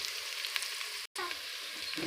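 Chopped onions fry in a pan for a desi vegetable dish, with a steady, bright sizzle that drops out for a moment and then picks up again, close and alone with no speech.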